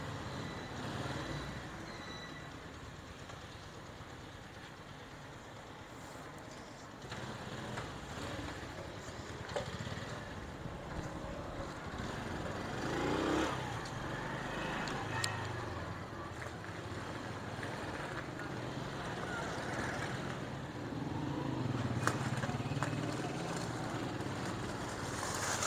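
A Dream 70 motorcycle is ridden along with a steady, low engine drone, mostly masked by heavy wind rush that rises and falls over the ride.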